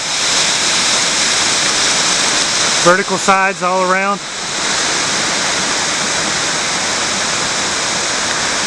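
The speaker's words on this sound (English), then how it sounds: "Bandy Creek Falls, 45 foot drop." Bandy Creek Falls, a 45-foot waterfall in a deep canyon at Big South Fork, Tennessee, makes a loud, constant rushing roar throughout, with someone speaking briefly over it.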